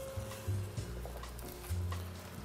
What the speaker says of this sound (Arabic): البصل انا حطيته في الديبار نتاع الزيت